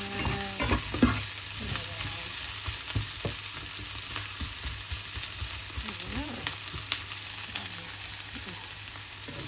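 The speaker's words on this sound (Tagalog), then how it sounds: "Iluluto lang natin yung carrots." Carrots stir-fry in a pan with celery and chicken, sizzling continuously at close range while a utensil scrapes and stirs in irregular clanks.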